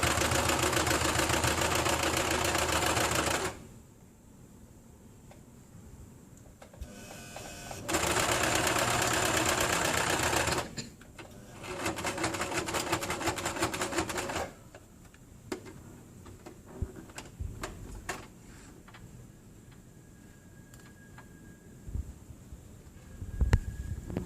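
Sewing machine stitching fabric during a dressmaking class, steady mechanical whirring in two long runs separated by pauses, followed by a shorter run and scattered clicks and handling noises.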